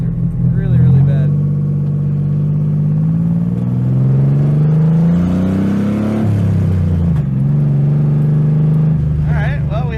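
Datsun car engine drones and revs while driving, a loud steady low hum that rises and falls in pitch as it works through its two gears, close and continuous.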